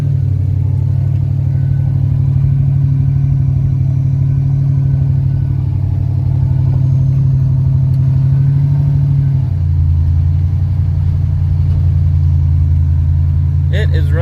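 A twin-turbo GMC 6-liter V8 with a decent-sized cam idles roughly, its low rumble steady and close and then audibly dropping and surging in pitch partway through, with no talking.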